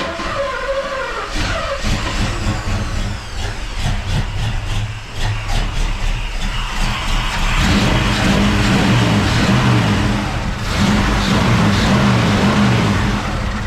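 A 454 engine with a Taco special carburetor starts for the first time and runs loud and close, a steady rough roar that rises into a heavier, louder rev partway through.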